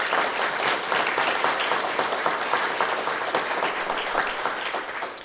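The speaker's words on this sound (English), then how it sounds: "So please, a big round of applause again for our staff." A large audience applauds town staff at a municipal gathering in Wasaga Beach, with dense, steady clapping that stays loud and full for the whole stretch and no speech over it.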